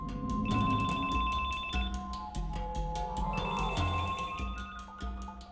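A mobile phone rings with an alert tone, a repeating electronic ringtone pattern that sounds loud and close over a dense musical background.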